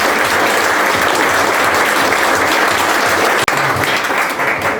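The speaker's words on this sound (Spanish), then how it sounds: "Julián que merece otro aplauso, pero con mayúsculas además" Loud, sustained audience applause at a book presentation of a Don Quixote translation, a thick continuous roar of clapping hands with one brief dropout near the end.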